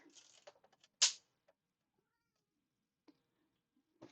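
A cat gives a single loud meow near feeding time, preceded by faint rustling and light tapping, with a couple of soft clicks afterward in an otherwise quiet room.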